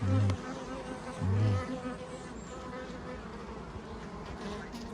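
Bees buzzing at an apiary, a steady close hum with two louder passes early on as insects fly near, continuing evenly to the end.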